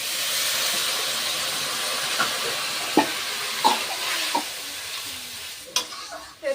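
Water is poured into a hot pan of potato and bori curry, setting off a loud, dense hiss that slowly fades, with a few spoon taps and scrapes against the pan.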